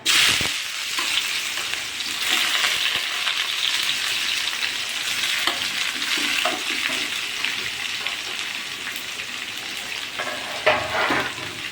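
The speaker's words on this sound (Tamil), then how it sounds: "இப்போ வெங்காயம் கருவேப்பிலை போடுறோம்" Onion and curry leaves sizzling and frying in a pan for puri masal, a steady loud crackle with intermittent stirring scrapes and no talking.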